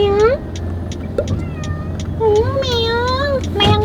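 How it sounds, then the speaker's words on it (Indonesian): A cat meows several times in short, rising cries close by, over a steady low engine-like rumble, with a person's voice mixed in. "Meongnya sangat lembut."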